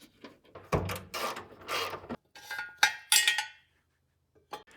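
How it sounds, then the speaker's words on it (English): Wrench work loosening the fuel tank mounting nuts under a Mitsubishi Evo: close metallic ratcheting, clinks and clunks in short bursts, with brief pauses between. "Then I'll loosen the fuel tank mounting nuts and lower the tail shaft as much as possible."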